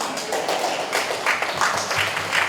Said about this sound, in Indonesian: Tepuk tangannya yang meriah dikit.